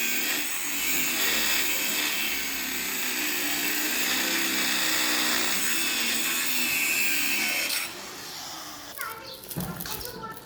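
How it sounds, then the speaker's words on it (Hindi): Electric welding on a house's main gate: a loud, continuous hissing crackle with a steady buzz that holds for several seconds before cutting out, followed by scraping and clattering sounds, with people talking in the background. "ये वेल्डिंग की जा रही है"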